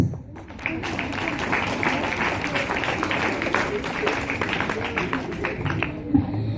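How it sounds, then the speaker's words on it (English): Audience applause at an end-of-event tribute in Doha, a sustained round of clapping from a crowd with sharp individual claps standing out, continuing for several seconds. "That's why he deserves a big round of applause."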